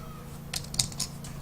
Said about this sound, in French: c'est insupportable le clavier